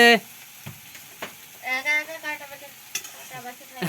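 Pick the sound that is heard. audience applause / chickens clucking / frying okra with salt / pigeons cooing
frying okra with salt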